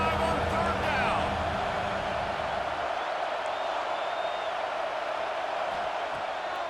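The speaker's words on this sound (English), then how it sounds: "The Buckeye crowd alive on third down." Stadium crowd in the EA Sports College Football 26 video game, the Buckeye home crowd at Ohio State roaring on third down, a broad, steady wash of cheering that rises at the start and then eases while a commentator talks over it.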